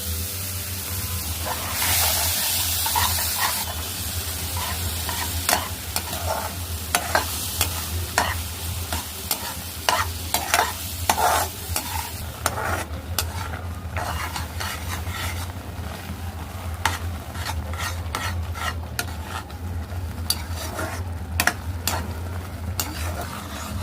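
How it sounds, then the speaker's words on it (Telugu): Carrot halwa with added milk is stirred in a pan, a spoon scraping and clinking in irregular strokes. A steady low sizzle of simmering milk runs underneath. "ఇప్పుడు పాలు పోసాము బాగా కలుపుకొని అది బాగా ఉడకాలి"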